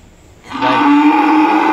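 At a cattle farm, a single loud, close cow moo starts after a brief quiet moment and holds steadily to the end.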